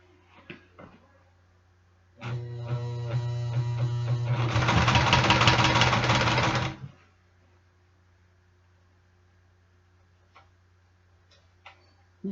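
A sewing machine stitching a zipper into the sleeve of a Harley leather jacket runs for about four seconds in a close, steady mechanical chatter that speeds up midway, with quiet room sound before and after.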